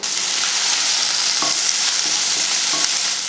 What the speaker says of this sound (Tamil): ஒரு கைப்பிடி அளவுக்கு வெங்காயமும் ரெண்டு பச்சை மிளகாயும் சேர்த்துக்கலாம்